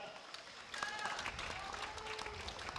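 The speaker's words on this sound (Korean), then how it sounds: "박수 한번 부탁드리겠습니다" An audience claps steadily for a few seconds at a martial arts fighting event, a full room of applause with some voices mixed in.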